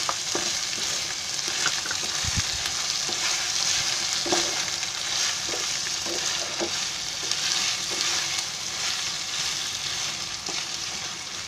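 Tomatoes fry in a pan for a Konkani mutton biryani, making a continuous sizzle with scattered pops and stirring scrapes throughout.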